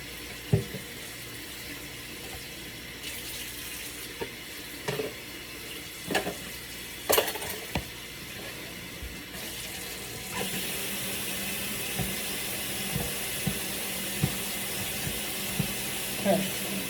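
Cooked pasta for a taco pasta salad being rinsed in a bowl under a running kitchen tap, a continuous close rush of water with clinks and knocks throughout.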